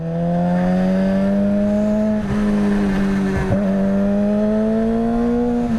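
A Suzuki GSX-R sport motorcycle engine drones loud and close at high revs, its pitch climbing slowly, with a couple of brief dips like gear shifts.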